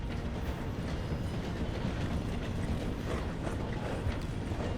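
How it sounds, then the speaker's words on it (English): Train in Red Dead Redemption 2 slowing to pass through a station, a continuous rumbling clatter of wheels and mechanical rattling held steady throughout with no speech. "The train is slowing down to go through the station."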